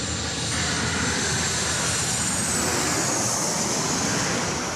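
A Boeing Dreamliner airliner landing at Sydney Airport at night, its engines giving a steady, loud, broad roar that holds for the whole stretch with no talk over it.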